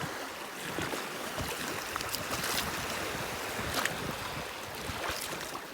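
Rough river water churns and splashes steadily around a boat, with choppy waves slapping close by and no voices.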